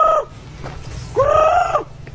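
A chicken calls twice, loud and near: a brief cry cut off at the start, then a drawn-out, harmonic, crow-like call after a short pause.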